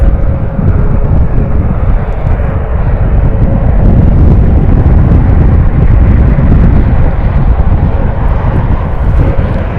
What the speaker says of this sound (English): This is our Hawaiian flight, followed by a couple Southwest and Spirit